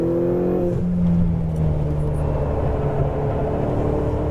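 A sports car on a race track lapping at steady speed, its engine droning loud and close, with a falling whine as it brakes and downshifts early on, then a continuous rumble.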